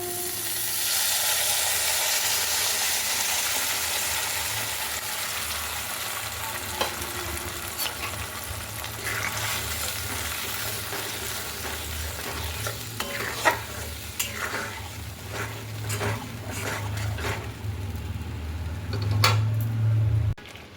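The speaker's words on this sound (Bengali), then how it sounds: "তো মশলাটা ফুটতে শুরু করে দিয়েছি" Spice paste frying in a pan for vegetarian potoler dolma (stuffed pointed gourd): a steady close sizzle, joined by scraping stirs and occasional utensil clinks against the pan, with no one talking.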